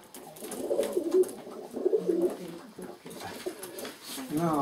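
Pigeons drinking give repeated soft, low coos, close by, while a person talks over them throughout.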